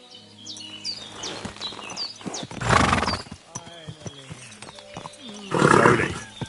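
Horse in the medieval game Kingdom Come Deliverance 2 gives two loud, rough whinnies a few seconds apart, with hoof clops and a voice talking between them.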